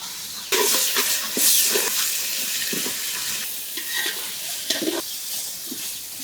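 Onion, ginger, garlic, cumin paste and bay leaf, with cinnamon, cardamom and peppercorns, sauté in oil for a duck curry, giving a steady close hiss broken by repeated scraping stirs.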